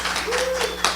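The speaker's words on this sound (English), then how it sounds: "Thank you if you all want to clap it up for them." A brief burst of audience clapping at a community forum for the panelists, a short dense patter of hands lasting about a second.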